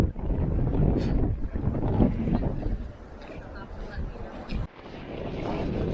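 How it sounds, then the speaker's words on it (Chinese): Gusty wind blows at Peggy's Cove, a fishing village in Nova Scotia near Halifax, with old houses and a fishing boat wharf. The wind buffets the microphone in rumbling surges, and voices are heard at times. "天气变化起风了。"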